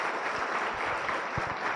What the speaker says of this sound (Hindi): एक बार जोरदार तालियां बजाकर आप अभिनंदन करें।